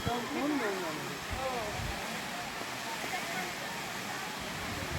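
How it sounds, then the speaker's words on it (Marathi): A waterfall in monsoon season roars as a broad, steady rush of water, heard from some distance under ongoing talk. "इथून खूप सुंदर दिसतोय बघा धबधबा."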